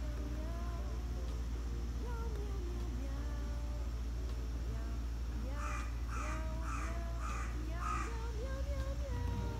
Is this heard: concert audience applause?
no